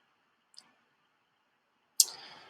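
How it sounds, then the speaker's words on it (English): A computer mouse gives two clicks in a quiet room, one faint tick followed later by a sharper, louder click. "When you click on this,"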